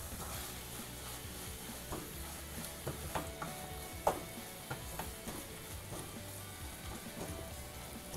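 A spoon stirs cumin and coriander powder masala in a pan for banana leaf fish fry, with soft scraping and light sizzling, a few sharper clinks, fairly faint and steady.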